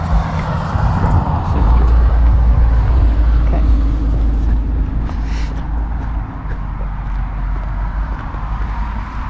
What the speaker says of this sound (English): We'll drive around.